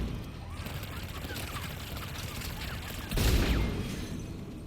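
Continuous gunfire rattles through a Mass Effect 3 battle, a dense stream of shots under the combat noise that swells with a heavier burst near the end.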